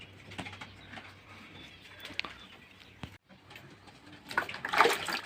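Pet pigeons on a hot day, being fed, give soft close cooing calls, followed by a brief burst of splashing water patter near the end.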